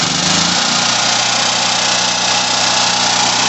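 Small portable generator engine running steadily just after a carburetor replacement, a loud, continuous close-up drone with a steady low rumble and no talking.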